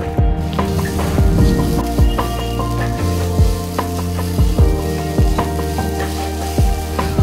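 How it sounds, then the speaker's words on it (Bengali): Rice, red and mung lentils and potato, with turmeric and salt, fry in oil in a wok for khichri, giving a steady sizzle under repeated scraping strokes of a spatula. "এবার সেগুলো দিয়ে ভাজতে ভাজতে ভাজতে ভাজতে কড়াইতে যখন ভাজা হয়ে যাবে"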